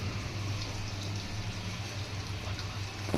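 Pork pieces frying in oil with onion and spices, a steady close sizzle and crackle continuing evenly throughout with no talk.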